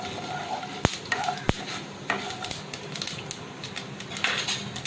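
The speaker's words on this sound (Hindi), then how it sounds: "इसे आधा मिनट के लिए चला लेते हैं" Whole spices being stirred as they roast in a pan over a medium flame, a steady dry scraping and rustle broken by two sharp clicks of the spoon against the pan.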